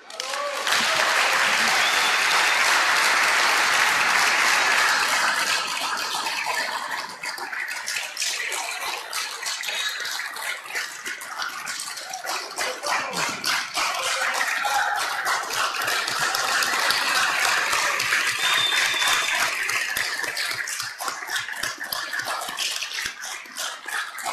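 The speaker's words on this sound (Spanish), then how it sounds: "quiero pedirle un aplauso para Sandra Martínez, nuestra chica del clima" Applause from a legislative assembly in session, honoring a weather presenter, builds loud and dense at first, then continues as a steady wash of many hands clapping for over twenty seconds.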